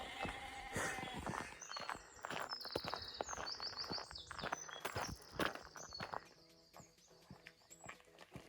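Sheep bleat on an open Yorkshire hillside while birds chirp and trill in the background, with crunching footsteps close by throughout.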